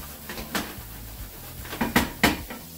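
A wooden spoon scrapes and knocks against a pan while stirring frittata, a few sharp clacks spaced irregularly over faint kitchen background.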